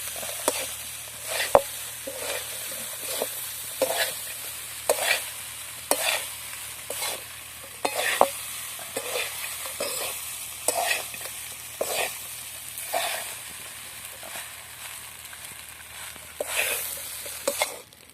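Poha (flattened rice) stirred in a hot pan for kanda poha, with repeated rhythmic scraping strokes of a spatula over a soft frying hiss, close and clear with no talking.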